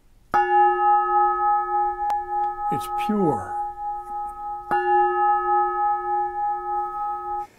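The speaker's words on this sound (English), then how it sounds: "Now this is just an old truck brake drum." An old truck brake drum is struck twice, each hit ringing out in a long, sustained bell-like tone with steady overtones. A brief voice speaks between the strikes.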